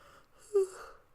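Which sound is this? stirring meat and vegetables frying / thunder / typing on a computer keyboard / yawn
yawn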